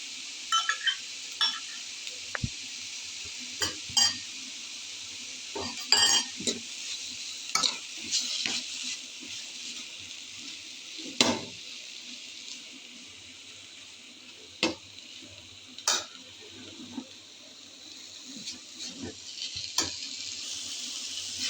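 Cooked meat sizzles steadily in a pan for a Somali sambusa-style filling, with repeated scraping stir strokes and light clinks cutting through the continuous frying hiss; no talking.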